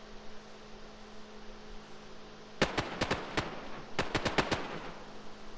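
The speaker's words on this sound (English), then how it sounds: "he's shooting at zombies" Gunfire aimed at zombies in the DayZ video game crackles in two bursts of sharp single shots, about five each, sounding fairly distant over a low steady hum.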